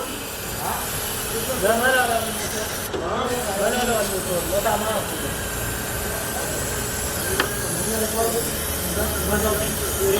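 A steady hiss of brake cleaner aerosol spray runs throughout, with someone talking over it nearby, while cleaning an engine on a BMW 320i.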